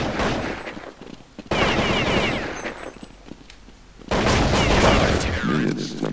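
Auto shotgun gunfire in Counter-Strike 1.6, loud, rapid bursts of repeated blasts, with a second heavy burst starting near the end, under game noise and faint voices.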